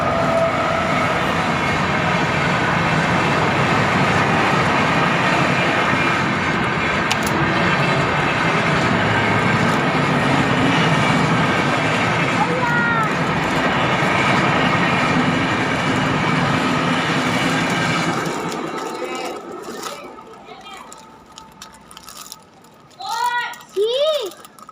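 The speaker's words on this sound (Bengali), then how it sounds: "ট্রেন চলে আসলো।" Train arriving, a loud sustained rumble and clatter of wagons rolling past close by, fading out toward the end, with children and other voices heard over it and then in the quiet.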